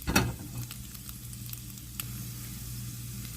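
Asparagus sizzles steadily in a pan with garlic and butter, a continuous close crackle and hiss with a low hum beneath and a louder stirring burst at the start.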